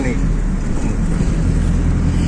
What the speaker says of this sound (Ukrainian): Ми зараз їдемо в маршрутному таксі